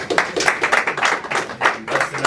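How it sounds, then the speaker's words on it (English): Audience applause for boxer Lamont Roach Jr. after his fight, a burst of rhythmic clapping from the crowd in an arena, fairly close and steady throughout with no one speaking over it. "Give him a round of applause."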